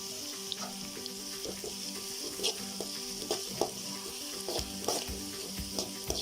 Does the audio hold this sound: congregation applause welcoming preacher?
no